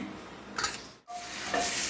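Dishes and utensils clatter and scrape in a hostel kitchen during washing, a close steady rattle with a brief gap partway through, no talking.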